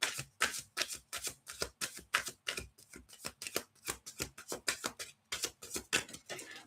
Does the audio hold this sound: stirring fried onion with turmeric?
no